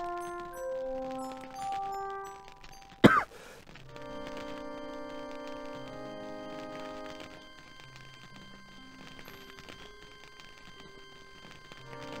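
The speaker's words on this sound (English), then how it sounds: "Where was that cough? Where's that come from?" A single short, harsh cough cuts through soft, gentle background music in the video game The Lost Files of Sherlock Holmes: The Case of the Rose Tattoo, then the music carries on alone.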